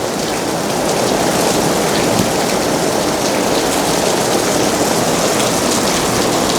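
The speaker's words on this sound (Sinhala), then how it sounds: "මේ වර්ෂාව තමයි ටිකක් කරදරයකට තියෙන්නේ." Heavy rain pours down in Phuket, Thailand, a loud, dense, unbroken hiss of drops on surfaces that stays even throughout, with no voices.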